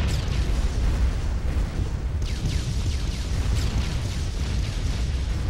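Explosions in the video game Broforce, a dense run of booming blasts and bursts in quick succession, loud and continuous without speech.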